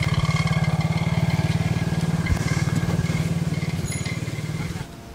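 A motorbike engine runs close by at a steady, fast-pulsing idle for about five seconds, loud and even, then drops off slightly near the end.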